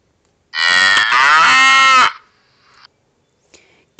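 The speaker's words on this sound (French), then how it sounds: "Les vaches meuglent." Cattle give one long, loud, close moo lasting over a second, followed by quieter trailing bleat-like sounds and a couple of faint clicks.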